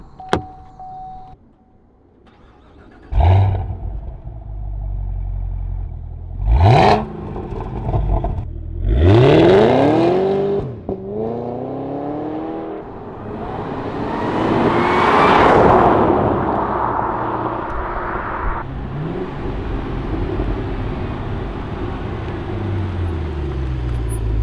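A 2017 Cadillac CTS-V engine with multi-mode exhaust starts and revs in several loud, sharp blips, then a long roaring rev that fades into a rumbling idle, close by, with no talk.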